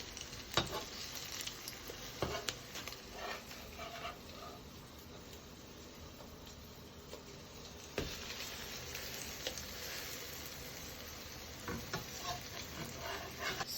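French toast fries quietly in a pan, giving a faint, steady sizzle with soft scrapes and clicks from a spatula as a piece is flipped, plus a few sharper knocks along the way.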